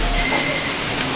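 Heavy rain pouring down steadily at night in Quezon Province, a loud, dense, continuous hiss of drops on surfaces with no pauses.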